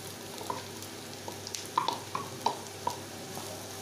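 Onions fry in a pan for a spicy prawn roast while a utensil stirs them, producing faint, sparse scrapes and clicks over a quiet sizzle and a low background hum.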